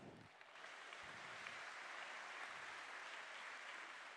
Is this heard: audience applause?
yes